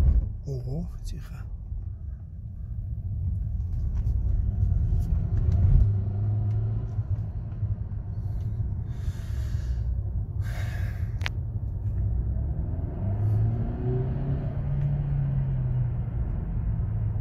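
A Mercedes car engine rumbles low and steadily as the gas pedal is pressed, with brief rises in pitch, while a person talks quietly nearby.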